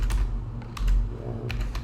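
Quick typing on a computer keyboard as a project name is entered: a short run of close, light key clicks with small pauses between them, and no voices.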